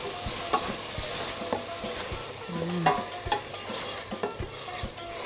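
Organic halal meat is stirred into onions in a pot, with repeated scraping strokes over a continuous, fairly close sizzle and no talking.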